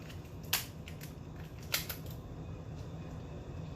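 Kitchen scissors snip up the back of a lobster tail shell, giving a few sharp, crisp cuts spaced about a second apart over a quiet, steady room hum.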